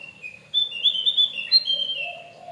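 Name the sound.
Javan white-eye (opior jawa) singing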